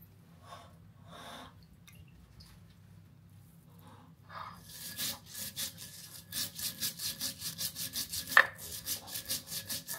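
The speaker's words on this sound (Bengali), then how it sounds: "এখন ওগুলো একসাথে আমি বেটে নিব।" Mustard and poppy seed paste is ground on a stone with rhythmic scraping and rubbing strokes that start softly, then grow into steady, close, repeated grinding passes with one sharp knock.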